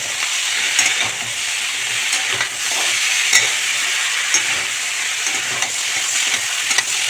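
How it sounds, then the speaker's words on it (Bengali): Figs are stir-fried in a pan with very little oil, a steady loud sizzle running throughout with light scraping and stirring clicks scattered over it. "এবার ডুমুরটা দিয়ে দেবো, এটা দিয়ে ভালো করে কষিয়ে নেব"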